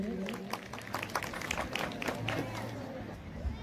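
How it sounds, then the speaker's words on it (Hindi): Loud applause and clapping from a crowd at an outdoor village sports prize distribution, a dense, steady patter of many hands lasting throughout, with some crowd murmur mixed in. "जोरदार तालियां इनके लिए।"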